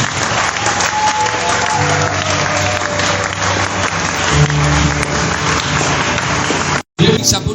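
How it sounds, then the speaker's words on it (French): Church congregation applauding together during worship, dense sustained clapping mixed with crowd noise filling the room, loud and steady, with voices and a low tone underneath before a brief cut near the end. "Au nom de Jésus, nous acclamons le Seigneur."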